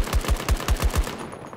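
Machine gun firing in Battlefield 2042: a rapid burst of about five sharp, punchy shots in a quick even rhythm, close and loud, then the sound cuts off.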